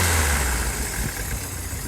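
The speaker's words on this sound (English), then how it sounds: "And that's normal idling right there." A 1980 Toyota dually truck engine idles steadily at about 800 RPM with a low, even rumble and a slight dip in level as it settles, close and continuous without speech.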